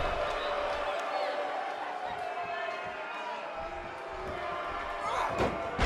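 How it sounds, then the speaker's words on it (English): A body slam in a WWE 2K18 NXT wrestling match, a heavy thud near the end over a constant roar of the arena crowd. "And there's a vicious slam."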